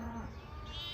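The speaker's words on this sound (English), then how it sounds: "First glimpse today of some sheep. Some little black lambs there." Sheep and small black lambs bleating outdoors in a field, faint plaintive cries set in a steady wash of wind and background noise, with no talking.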